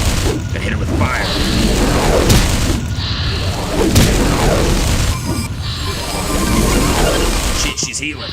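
Fire spells cast at an enemy in Morrowind, whooshing magical bursts and booming impacts repeating every second or so over game mechanisms and clanks, with a voice talking throughout.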